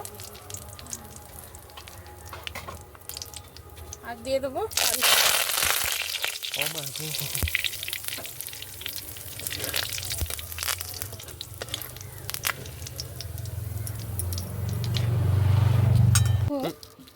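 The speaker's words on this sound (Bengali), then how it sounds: "আলু ভাজার জন্য কটা শুকনো লঙ্কা ভেজে নেব" Dried red chillies frying in oil for crispy shredded potato fry, crackling as a steady sizzle that swells in bursts, with a person talking over it and running water nearby.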